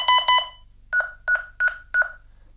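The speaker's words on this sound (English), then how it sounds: "you can hear the different noise that the carbon monoxide detector sets off" A Honeywell 5800CO carbon monoxide detector alarm sounds through an L5200 security panel: two quick double beeps, then four evenly spaced, loud electronic beeps in a steady pulse.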